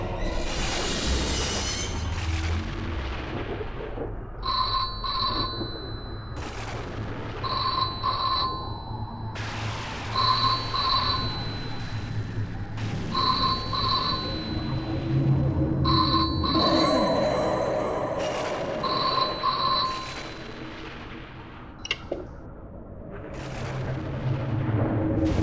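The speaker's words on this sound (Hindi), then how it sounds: "लगता है फोन की घंटी बज रही है।" A telephone rings late at night as a horror show effect, with repeated bright two-tone bursts in a steady rhythm over a dark, rumbling ambient bed that swells toward the end.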